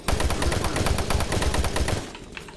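Rapid automatic gunfire from the shooter game Doom 3 crackles loud and close in a dense run of shots for about two seconds, then cuts off into quieter game ambience.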